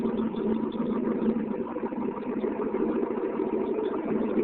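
A 1972 John Deere 4230 tractor creeps forward in mud, its engine running with a steady, rough mid-low rumble, close and continuous without talk.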